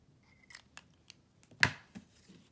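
Sharp scissors snipping the ribbon ends of a bow on a handmade Christmas tag, a few light quiet rasps followed by one clear, louder crisp cut, then a faint trailing snip.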